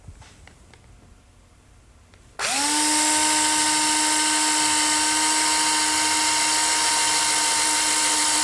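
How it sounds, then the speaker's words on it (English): After a few quiet seconds a drill starts up and runs loudly with a steady high whine as it bores into wood. "So I think I'm ready to drill this hole."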